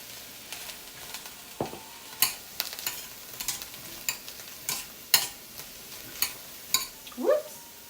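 Smoked turkey sausage, onions and bell peppers fry in a pan under a low sizzle, with repeated sharp scrapes and clacks of a utensil stirring at irregular intervals, and a brief voice near the end.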